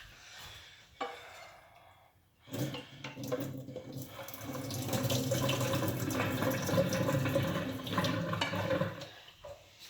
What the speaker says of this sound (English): Drain a bit of this water actually.